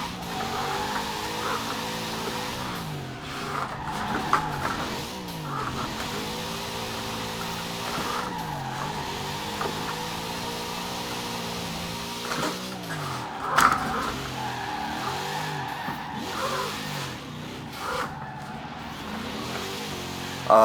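A car accelerates through its gears in what seems to be a video game, engine tone climbing and dropping repeatedly with shifts, with occasional tire squeals over a continuous mid-level drone.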